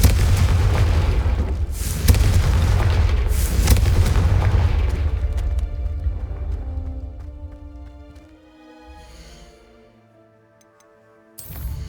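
Spell blast from the Confringo curse in the video game Hogwarts Legacy: loud booming explosive bursts in the first seconds, then a fading rumble with ringing tonal game music and ticking effects trailing off.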